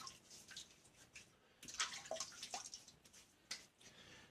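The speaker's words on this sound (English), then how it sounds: "I'm going to go ahead and wet my face" Water splashes faintly and intermittently from a tap or basin as a face is wetted before shaving, with soft irregular sloshes and drips heard close by.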